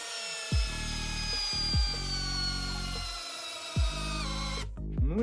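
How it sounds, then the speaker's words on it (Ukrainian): Pro-Craft cordless drill driver boring with a large bit, its motor whining steadily while repeated low thumps and bursts mark the bit biting into the material, stopping abruptly at the end. "А от на сверління заходить. Причому легко."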